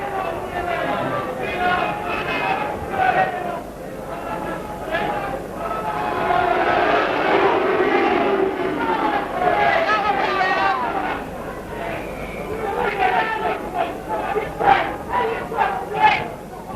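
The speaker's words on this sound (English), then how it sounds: "So the crowd quite vocal in their opinion about that one" A rugby league crowd on a wet night roars and jeers in a swelling, sustained wave of voices, with a commentator talking over the noise.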